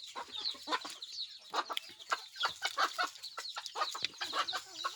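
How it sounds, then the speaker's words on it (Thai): Chickens cluck close by at a rural Thai home, a busy run of rapid overlapping clucks and squawks from several birds with no talk over them. "เสียงไก่พี่น้อง"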